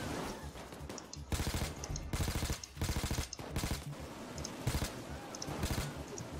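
Rapid automatic gunfire in the video game Payday 2, during a jewelry store heist, rattles in dense bursts with brief gaps, loud and continuous over several seconds.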